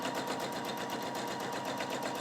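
A Husqvarna Viking Opal 650 sewing machine does free motion quilting with a steady, rapid mechanical whir and the even pulsing of the needle, moderately loud and uninterrupted.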